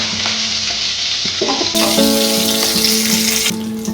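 Slit green chillies stirred in a hot pan, a continuous close sizzle with scraping strokes and some clinks, while a tonal hum runs underneath and no one speaks.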